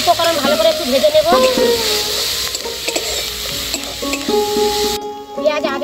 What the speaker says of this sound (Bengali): উপকরণ ভালো করে একটু ভেজে নেব।